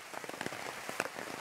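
A heavy downpour beats down outside a jungle shelter in Papua's Baliem Valley, heard as soft, fairly quiet patter with scattered sharper drops hitting a nearby surface.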